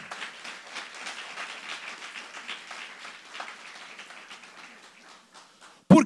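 A church congregation applauding together, a steady wash of many hands clapping that holds evenly for several seconds before a single sharp thump at the end.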